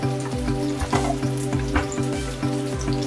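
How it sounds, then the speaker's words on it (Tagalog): Food fries in hot cooking oil, giving a steady close sizzle with spattering pops and crackles that repeat in a rough rhythm. "Prito lang natin. Oo, although matalsik. Hindi tayo matakot sa mantika."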